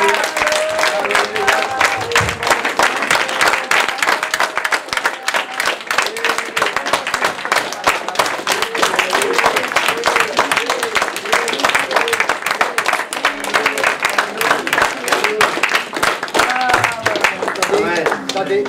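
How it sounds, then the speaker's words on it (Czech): A standing church congregation applauding, dense continuous clapping from many people that holds steady and loud throughout, with voices mixed in. "Pojďte, postaňme a dáme mu potlesk pořádný"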